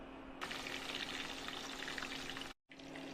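Pieces of bottle gourd fry in hot oil with a steady, dense sizzle that begins abruptly and continues loud and close, broken by one short gap near the end.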